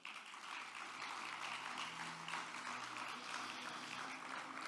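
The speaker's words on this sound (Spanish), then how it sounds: "Fuerte el aplauso para él." An audience at a SLADE 2024 congress gives steady applause as a speaker is welcomed to the stage, soft and continuous with a faint hum underneath.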